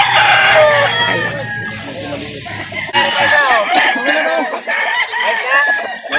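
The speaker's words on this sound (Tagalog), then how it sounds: "Dami manok yan." Several chickens crowing and clucking loudly nearby at a poultry market in Calauan, Philippines, overlapping calls filling the scene, with people talking in the background.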